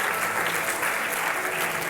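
Sustained applause from a church congregation praising God, many hands clapping in a thick, continuous roar with a faint voice underneath.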